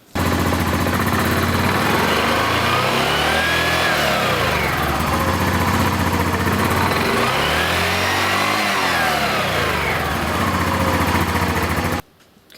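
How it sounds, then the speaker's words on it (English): A Yamaha Grizzly 700 ATV engine runs loud and close, with a steady idle that swells twice into rising-and-falling revs as the clutch is cycled, then cuts off abruptly at the end. "I'm going to go ahead and start it, cycle the clutch through a couple times just to make sure everything looks and sounds right."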